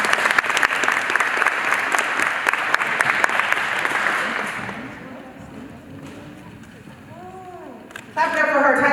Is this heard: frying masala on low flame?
no